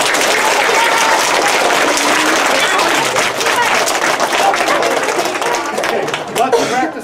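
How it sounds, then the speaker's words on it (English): An audience at a police department's Red Ribbon school presentation applauds a child, a steady round of clapping close and loud, with some chatter and laughter mixed in as it tapers off. "Everybody give Gavin a round of applause."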